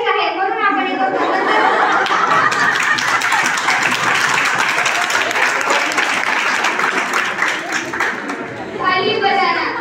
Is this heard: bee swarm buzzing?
no